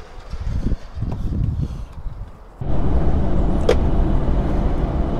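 An HGV Class 1 lorry drives along the road toward Saddleworth, a steady close engine and road rumble that steps up louder partway through and holds, with no talking.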